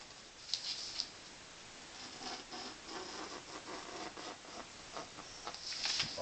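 A blade works through stencil material with close, irregular scratching and rubbing strokes, a few sharper scrapes standing out over a continuous quiet friction.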